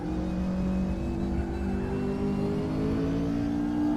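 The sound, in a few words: race car engine in RaceRoom racing video game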